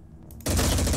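Gunfire from the turn-based tactics video game Phoenix Point bursts in abruptly after a quiet moment, a loud, dense volley of rapid shots filling the rest of the clip.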